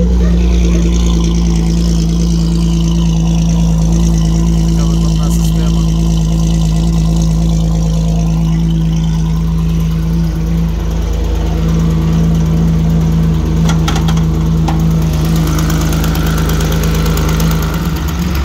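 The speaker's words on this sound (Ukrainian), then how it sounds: "Але двигун працює непогано дуже." A Ford 2.9 engine fitted in a 1954 GAZ M-20 Pobeda idles steadily and loudly up close, a deep, even hum that holds with little change.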